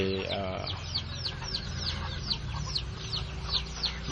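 A bantam hen raising ducklings clucks close by in short, repeated bursts, while soft high peeping from the young birds rises in a quick, regular series underneath.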